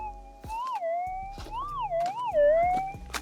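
A warbling electronic tone from a metal detector signalling a gold target rises and falls several times, with soft thumps and scrapes from ground handling underneath.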